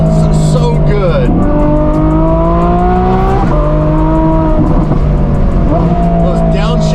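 A twin-turbo Ferrari F12 V12 on private property in rural Canada revs hard and downshifts crisply, its loud harmonic engine note rising and dropping through several gear changes, with a voice talking over it.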